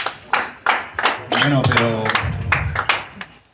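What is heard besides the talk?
audience clapping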